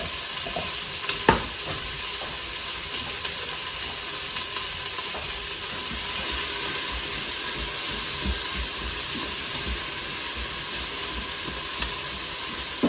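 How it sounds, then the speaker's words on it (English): Green peppers and onions saute in a hot pan for goulash with a continuous loud sizzle and hiss, a few spatula scrapes and taps near the start, and no talking. "I want those to get a jump on sauteing here real quick"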